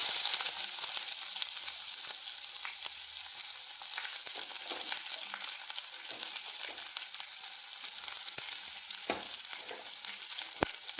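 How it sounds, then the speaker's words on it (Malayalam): Onion sizzles and crackles in hot oil in a pan for rava kichadi, a loud, dense and continuous frying hiss with a few stirring scrapes and no talking. "സവാള ഇട്ട് കൊടുക്കാം."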